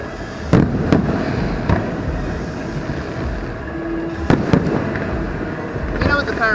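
Distant Fourth of July fireworks in West Palm Beach boom and crackle in a few scattered bursts over a steady outdoor rumble, with faint voices in the background.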